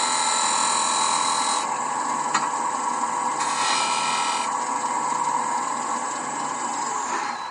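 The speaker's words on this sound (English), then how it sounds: "I'm using a skew chisel as a negative rake scraper to take off very small amounts." A skew chisel, used as a negative-rake scraper, shears mahogany on a spinning wood lathe, giving a continuous close whirring hiss with a couple of brief brighter surges.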